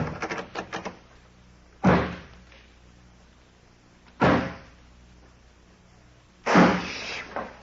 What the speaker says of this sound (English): I'll lock this door on the outside.